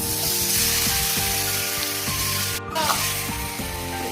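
Chicken hitting hot fried onions in a pan, a loud steady sizzle with scraping stirring clicks, a brief gap then continued frying.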